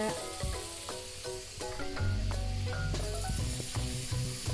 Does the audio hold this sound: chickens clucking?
no